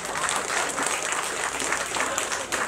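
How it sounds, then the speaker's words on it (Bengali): An audience at a gathering in Chetla gives Achintyada a dense, sustained round of clapping that stays loud and even from start to finish. "অচিন্তদার জন্য কি জোরে একটা হাততালি হবে না?"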